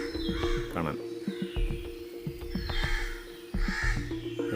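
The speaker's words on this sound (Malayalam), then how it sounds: "അല്ലാതെ ഒറ്റപ്പാട് ബഹളമൊന്നും കേൾക്കുന്നില്ല വെറും കാക്കേൻ്റെ കരച്ചിലും" Crows caw repeatedly in short harsh bursts, several calls overlapping at mid distance, with some voices audible in the background, at the Abhayaranyam eco-tourism park in Kerala.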